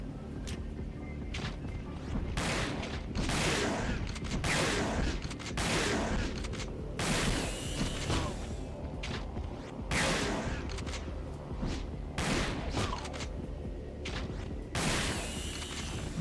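Gunfire in Resident Evil Dead Aim cracks out in sharp, repeated shots spaced irregularly over a low game ambience, each shot loud and distinct with brief gaps between.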